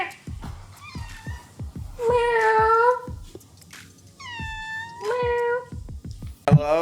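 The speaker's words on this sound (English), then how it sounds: "Meow." A house cat meows repeatedly at close range, several drawn-out rising and falling cries with short pauses between them, over a backdrop of quiet ticking and tapping in a kitchen.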